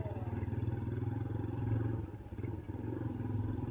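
A 2008 Yamaha Scorpio 225 motorcycle engine heard while riding, a low, rapid, rough-edged thumping drone that holds steady and close, dips briefly, then returns.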